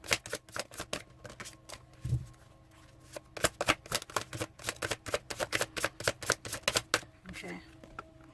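A deck of tarot cards being riffled and shuffled up close, a rapid run of crisp flicking snaps with a short pause partway, and a voice talking quietly now and then.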